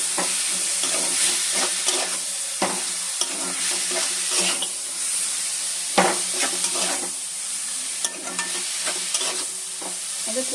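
Coconut filling for rolled coconut pithe being stirred in a frying pan, with a steady sizzle beneath repeated scraping strokes of a spoon against the pan, close and continuous with no talking.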